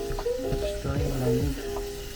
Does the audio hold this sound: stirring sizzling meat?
yes